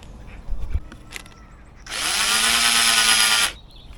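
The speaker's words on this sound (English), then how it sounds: "Oh, I need my drill" At an allotment garden, after a couple of soft knocks, a power drill whirs loudly for about a second and a half at a steady pitch, close by, then stops.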